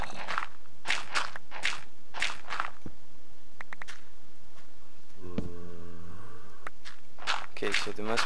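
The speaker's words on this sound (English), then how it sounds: "I hear them stepping on gravel or dirt" Footsteps crunch over gravel in the Minecraft video game, coming as short bursts in clusters of steps, with an electronic tonal chime partway through and a loud bassy thump.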